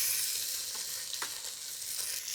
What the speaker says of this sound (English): cook these onions down until they start to soften